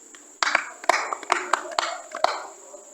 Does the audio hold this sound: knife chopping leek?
no